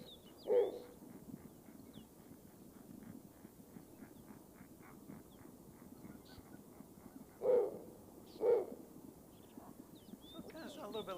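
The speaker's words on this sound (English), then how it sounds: "Here's the snowy owl calling." Three low, soft snowy owl calls, one early and two close together near the end, over a quiet rustling background.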